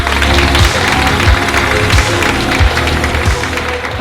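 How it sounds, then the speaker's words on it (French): Loud audience applause at a business and biohacking event, dense clapping from a crowd over thumping music with a steady low beat throughout. "vous demandent d'applaudir très fort"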